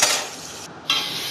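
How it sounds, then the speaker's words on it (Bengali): Fish frying in oil in a wok makes a brief, bright sizzle that dips for a moment and then surges back. "তো কড়াই হচ্ছে মাছ ভাজা"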